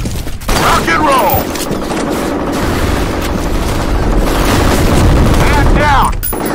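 Dense, continuous automatic gunfire and explosive booms fill an online F.E.A.R. Combat multiplayer match, loud and unbroken, with game voice callouts mixed in.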